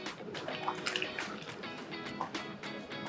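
A pot of water boils with casarecce pasta, broccoli, spinach and basil, giving a steady bubbling and popping with irregular drips and splashes, fairly close and continuous.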